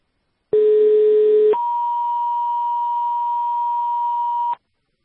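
Two-tone fire dispatch alert sent over a mutual aid radio channel: a steady lower tone for about a second, then a longer higher tone held for roughly three seconds, loud and clean with no voices.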